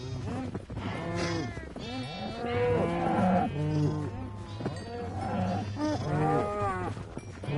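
Cows mooing in Minecraft Bedrock Edition in a grassy farm pen, with sheep nearby: a run of repeated, drawn-out moos and bleats, fairly loud and close, one call following another without pause.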